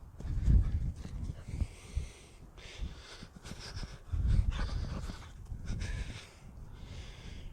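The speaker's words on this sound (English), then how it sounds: "dog's going crazy" An excited dog races around in a burst of zoomies, panting hard and close by, with uneven bursts of breathy huffing, snorting and scuffling that rise and fall over several seconds.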